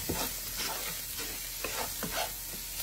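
Ground beef seasoned with paprika being stirred in a frying pan, with repeated scraping strokes over a steady close sizzle, no talking.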